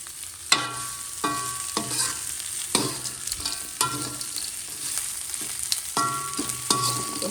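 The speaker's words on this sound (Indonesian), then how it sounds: "Lalu kita aduk. Nah, jadi kita aduk ya teman-teman." Anchovies, tofu and tempeh sizzle in sambal in a pan while a utensil stirs them in repeated scraping strokes about once a second. The spatula clatters close by over a steady frying hiss, and no one speaks.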